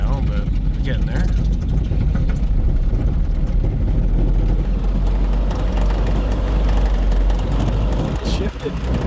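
A Smart car fitted with snow tracks drives off-road through snow, its engine and track drone steady and close, a loud continuous rumble that holds throughout with a slight dip near the end.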